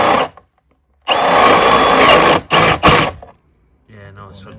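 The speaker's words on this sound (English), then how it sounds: "We're cleaning it up with a multi-tool" Multi-tool cutting and cleaning up during electrical work by a UK electrician, loud close bursts of buzzing with one long run followed by two short ones, separated by brief pauses.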